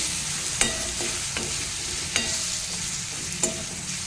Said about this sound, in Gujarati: બટેટું જે છે એ તેલમાં આવી રીતે તરત જ ચડી જતું હોય છે